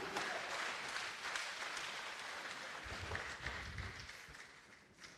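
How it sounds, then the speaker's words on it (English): An audience claps at a pharmacists' conference opening ceremony, a dense, steady wash of many hands that holds for several seconds and then thins out toward the end. "Can we clap again?"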